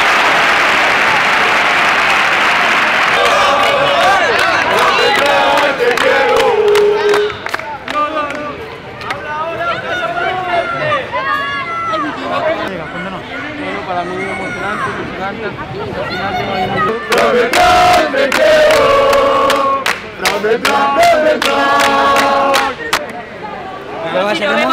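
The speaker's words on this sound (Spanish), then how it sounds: "hay gente que se ha levantado del asiento para aplaudirme" A stadium crowd at an RC Celta football match rises from its seats to applaud a player, loud sustained clapping and cheering that fills the space, with bursts of speech over it.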